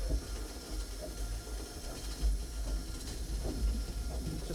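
Steam locomotive of the Southern engines with the regulator opened to climb a gradient, giving a steady broadband steam hiss with low rumbling and faint rhythmic chuffs throughout, fairly close and continuous.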